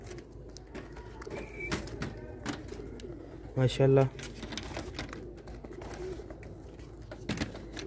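Pigeons in a loft give soft low coos, with a louder burst of cooing near the middle, beneath someone speaking throughout and faint chirps around.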